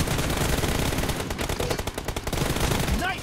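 Rapid bursts of automatic gunfire in a team deathmatch video game, loud and continuous with dense repeated shots filling the whole stretch, a faint voice briefly underneath.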